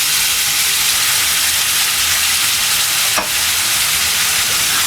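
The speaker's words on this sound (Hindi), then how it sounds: "अब इस टाइम पर मैं इसमें इमली का ये पल्प डाल दूँगी, और जो चीनी मैंने ली है वो" Steady sizzling and stirring hiss from potatoes in a pan as tamarind pulp and sugar are added for a sour potato dish, loud and continuous with a brief scrape partway through.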